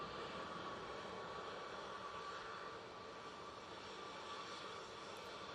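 A KLM airliner on the runway at Manchester Airport produces a continuous, even engine roar at a distance, a dense hiss with a faint steady whine and no talking.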